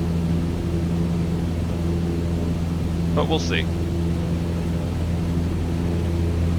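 A steady low drone from an airplane engine in Microsoft Flight Simulator 2020, on a flight around Cincinnati, humming evenly throughout while someone speaks briefly over it.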